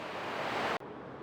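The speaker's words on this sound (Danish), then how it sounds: "det blæser en hel del i dag" Strong outdoor wind on a blustery day on Fyn rushes and buffets the microphone as a steady, dense roar, then cuts off abruptly near the end.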